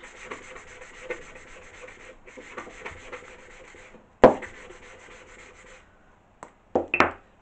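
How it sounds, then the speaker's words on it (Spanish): Rhythmic back-and-forth rubbing of a medium-grit sanding block on antique wooden furniture, close up, in repeated strokes, broken by a pause, a sharp knock and a few scrapes. "estoy con un taco de lija de grano medio"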